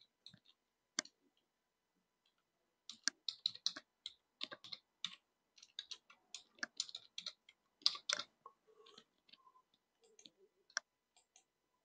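Typing a password on a computer keyboard produces faint, close, irregular key clicks in short bursts with brief pauses in a quiet room.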